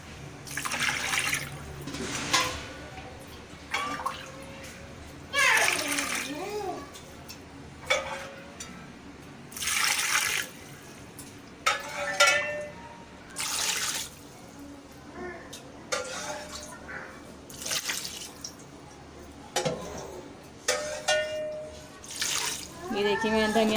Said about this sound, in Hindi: उसके बाद मैंने पानी डाला।